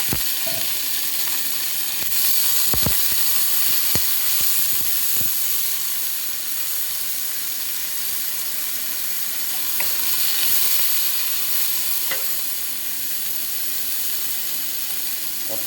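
Onion and capsicum frying in a pan for a sardine curry, a steady loud sizzle with hissing steam and a few sharp clinks and scrapes of stirring, no talking.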